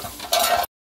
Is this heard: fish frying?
yes